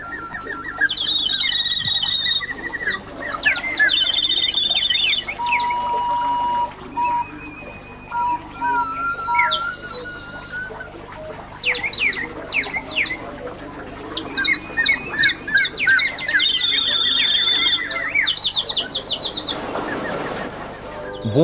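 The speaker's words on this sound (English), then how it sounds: "Water power drives, for instance, these bird songs in the Neptune Grotto." Water-powered mechanical bird songs in Salzburg's Neptune Grotto, a series of bright whistled chirps and trills in repeated bursts with short pauses, close and clear, with a gurgling water hiss near the end.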